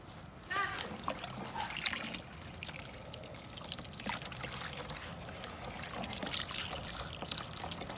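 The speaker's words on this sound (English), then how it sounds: "Rinse off the side of the bucket a little." Water splashing and trickling as the side of a bucket used for making compost tea is rinsed, with soft pouring and dribbling sounds over faint background noise.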